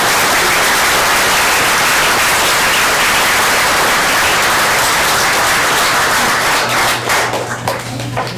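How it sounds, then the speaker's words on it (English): Sustained, loud applause from a crowd at a city mayor and council meeting, dense steady clapping filling the room for about seven seconds before thinning out at the end. "So if you want to have us direct any applause, please direct it towards them"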